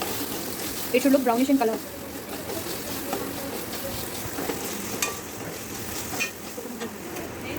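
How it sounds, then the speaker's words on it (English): Ginger garlic paste fries and sizzles in a pan while being stirred, a soft continuous crackle with brief scraping, and a voice speaks over it. "Add ginger garlic paste and mix it well."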